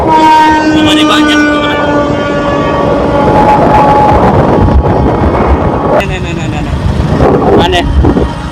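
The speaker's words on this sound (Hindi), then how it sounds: "अब ट्रेन पे चल रहा" Train rolling along the tracks near Kasiyata station, a loud steady rumble with sustained horn tones over it and a renewed rush of wheel noise near the end.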